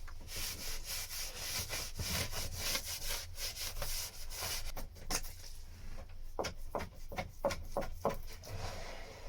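Close, rhythmic scraping strokes as filler is scraped off a motorcycle fairing, a dense run of rasping passes giving way to sharper, more spaced scrapes, with no talk.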